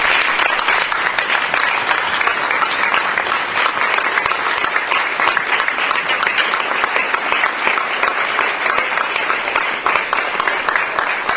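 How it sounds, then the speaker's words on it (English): Loud, sustained audience applause at the 2014 Kate Stoneman Day award ceremony, dense clapping from a large crowd continuing evenly for over ten seconds without talk. "One last round of applause for our amazing 2014 Kate Stoneman recipient."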